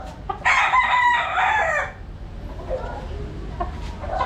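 A young Kelso gamecock stag gives one loud, close crow lasting over a second, then the yard falls back to quieter low background sound.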